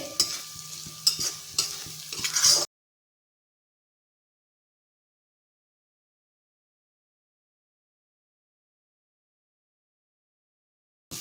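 Masala cooks with onions and tomatoes in a pan for a green onion and pigeon pea curry, brief close stirring scrapes over a light sizzle lasting a couple of seconds before long silence.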